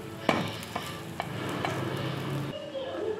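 A paneer sandwich toasts in a pan, giving a steady close sizzle broken by a few sharp clicks and scrapes as it is pressed and turned.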